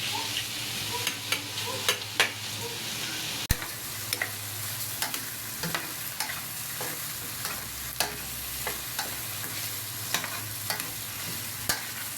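Hotdog frying in a pan, a soft steady sizzle punctuated by sharp intermittent clicks and taps of a utensil against the pan, close and quiet with no one talking.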